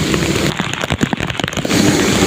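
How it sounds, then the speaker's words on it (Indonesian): Heavy afternoon rain pours down on a road journey, soaking the camera. It makes a loud, dense broadband hiss with a burst of sharp crackling drop impacts in the middle, and no talk. "Kamera saya udah mulai tertutup air karena saking derasnya air hujan di"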